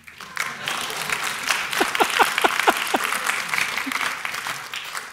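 A church congregation claps together at a worship service, a steady patter of many hands building and holding at moderate loudness, with a voice briefly audible over it.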